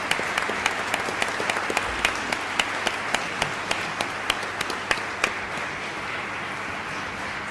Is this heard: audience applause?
yes